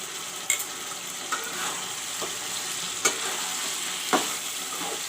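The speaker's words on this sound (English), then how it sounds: "Now I will put in the masala." Masala paste of ginger, garlic, dhania, jeera and red dry chilies frying for chicken with dahi, a steady close sizzle with a few sharp clinks of a spoon stirring the pan.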